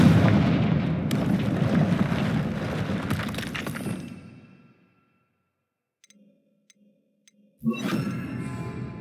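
A Confringo explosion spell in the video game Hogwarts Legacy bursts loudly with a crackling blast that fades away into near silence. A few faint clicks follow, then a second sharp, noisy burst hits.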